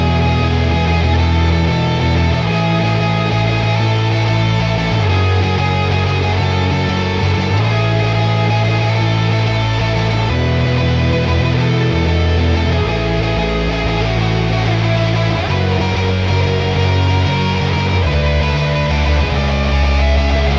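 A post-punk new wave melody with a bright, stadium-style electric guitar lead plays loud and continuous over a steady backing, with no voices.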